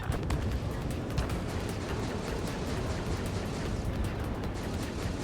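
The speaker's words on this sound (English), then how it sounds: "Missile!" Missile explosions and heavy combat blasts rumble continuously and loudly in the aerial dogfight game Ace Combat 7, a dense, sustained wash of low booms with no clear gaps.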